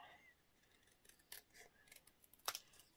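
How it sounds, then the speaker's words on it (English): Small scissors snipping paper while making a junk journal, a few quiet, close, crisp cuts spaced unevenly, one sharper snip standing out near the end against a faint room background. "there's my little scissors."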